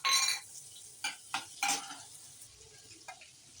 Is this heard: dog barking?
no